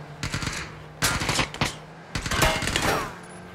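Automatic weapon gunfire in the PUBG video game, three loud rapid-fire bursts separated by short pauses, with no talking.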